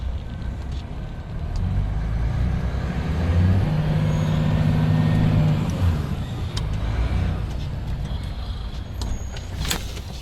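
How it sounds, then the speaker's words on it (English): Heavy machinery rumbles at a sand mining site as a loader fills truck trailers, a steady low engine drone rising and holding in the middle before settling, with a few faint clanks. "that loader is loading the trailers, and that truck has to be loaded with 25 tons of sand"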